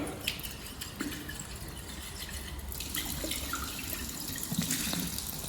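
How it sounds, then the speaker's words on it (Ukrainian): Tap water running to rinse a glass lab vessel two or three times, a steady broadband splashing flow with scattered drips and clinks of glass, close and moderately quiet, no voices. "І знов споліскуємо водопровідною водою десь рази два-три."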